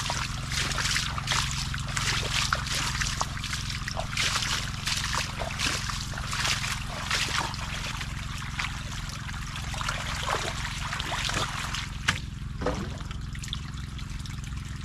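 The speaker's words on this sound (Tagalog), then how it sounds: "pasensya na muna kayo, maingay yung makina. Kailangan natin patubigan to lahat." A water pump engine irrigating a vegetable field runs with a steady low hum beneath constant splashing and trickling water, loud and close, continuous throughout with a few sharper splashes.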